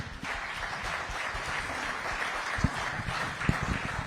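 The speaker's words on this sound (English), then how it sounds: "Again, one more round of applause for our panel tonight." An audience at a town hall meeting applauds steadily, a dense wash of clapping at moderate volume with a few sharper claps standing out.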